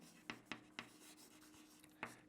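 Chalk or marker tapping and scraping on a lecture board, in short crisp strokes with pauses between them, faint against a quiet room.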